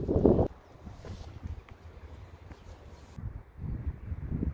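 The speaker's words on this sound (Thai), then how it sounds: "ลมแรงมากเลยวันนี้" Strong wind buffets an outdoor vegetable garden in Scotland, with rough gusts of rumbling microphone wind noise that rise at the start, ease, then build again.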